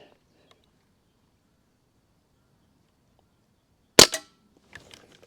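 A single sharp shot from a Barra 1866 CO2 cowboy rifle fired on an otherwise quiet range, a loud close crack followed by a brief rattle and a few faint clicks afterward.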